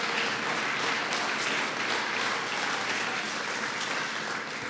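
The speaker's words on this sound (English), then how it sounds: "Let's give him a round of applause." Dense, sustained applause from a large crowd, loud and steady throughout with no pauses.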